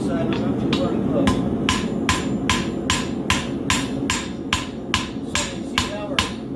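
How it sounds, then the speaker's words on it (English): A farrier's hammer rings against a horseshoe being forged into a thin knife blade: about fourteen sharp, evenly spaced metallic blows at a brisk steady rhythm over a low background hum, close and loud. "So you see how we're flattening out? This is our blade, so it's getting thinner."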